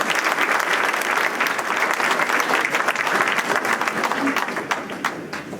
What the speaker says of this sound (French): Là aussi, je crois qu'on peut applaudir ce bel événement.